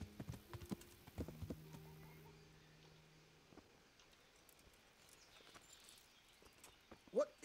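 Faint clip-clop of horse hooves plodding along steadily in the video game Kingdom Come: Deliverance, with a few sustained electronic tones early on and soft background ambience.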